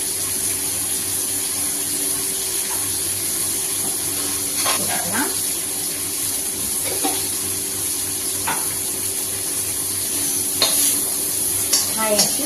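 Capsicum sautés in a pan with a steady, even sizzle under a constant hum, broken by a few scraping stirs and clinks spaced several seconds apart.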